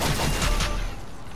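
A short burst of rapid SMG fire from the Fortnite video game, dense crackling shots over about a second that fade out quickly, heard alone without talk.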